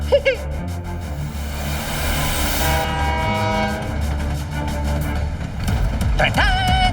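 A cartoon train rumbles along with steady rhythmic chugging and a sustained horn blast, loud and continuous, ending in a rising whistle-like squeal.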